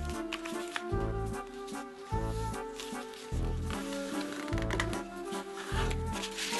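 Paper is creased and folded while making an origami casket, giving close, continuous rustling and crinkling with repeated soft pressing strokes at a steady rhythm.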